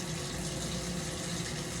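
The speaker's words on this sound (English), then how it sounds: "I'm going to start the warm water." Warm water runs steadily from a kitchen tap, a continuous close, even gushing hiss with no breaks, loud and alone.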